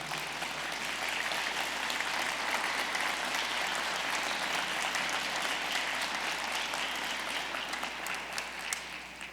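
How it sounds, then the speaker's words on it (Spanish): Church congregation applauding during a sermon, a steady, dense wash of clapping from many hands that holds evenly throughout with no talk over it. "Denle un aplauso a Él."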